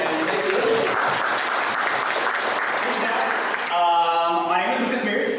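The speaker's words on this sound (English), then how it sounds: "let's give a big round of applause for being here" Loud audience applause fills a presentation hall at an Okapi Conservation Project talk, a dense, steady wash of clapping that cuts off partway through as a tonal voice or sound takes over.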